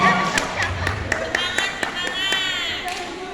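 Audience clapping at a Jaipongan dance festival in Garut, scattered sharp claps spread through a noisy crowd, with a ringing tone and background murmur under them.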